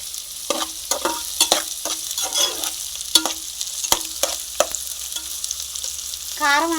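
Onions and green chillies fry in a pan for bagara rice, a steady sizzle broken by repeated sharp scrapes and clatters of a stirring spoon, close and fairly quiet.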